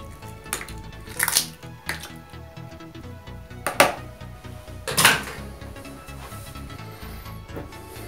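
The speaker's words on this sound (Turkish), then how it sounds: "2 adet yumurtayı tak tak diye kırıyoruz böyle" Two eggs are cracked against a bowl, giving a few sharp taps and clicks scattered among light kitchen clatter, close and fairly quiet with no voices.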